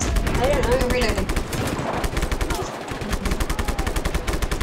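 Rapid, loud gunfire rattles in the video game Just Cause 3, dense automatic bursts that run almost continuously with brief gaps.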